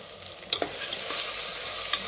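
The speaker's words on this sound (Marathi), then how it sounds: "आणि याला पण छान फ्राय करायचं" Fresh green pigeon peas fry in hot oil with a steady close sizzle and brief stirring scrapes, over just a couple of seconds.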